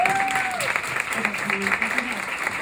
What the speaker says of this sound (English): Can we have a round of applause for these?